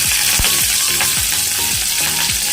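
Dried red chillies and curry leaves, with urad dal, crackle and sizzle loudly in hot oil while being tempered for a peanut chutney, with steady frying hiss and repeated short pops throughout, no talking.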